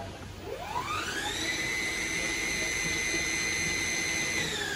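An electric motor in a converted Honda Beat scooter winds up under throttle, its whine climbing in pitch, then holding a steady, fairly loud high hum.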